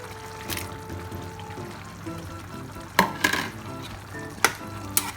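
Chicken breast goes into a pan of sautéed tomatoes for ginisang upo. A steady low sizzle runs throughout, broken by a few sharp clatters and stirring knocks near the end.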